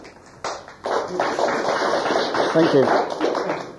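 Lecture audience at a theosophical society applauding the speaker, a broad wash of hand claps filling the room at moderate loudness, with a brief spoken thanks over it.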